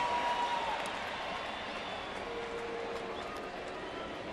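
Crowd noise from a Cubs vs Cardinals baseball game at the Cardinals' stadium, a steady, dense roar that holds its level throughout, with faint traces of commentary underneath.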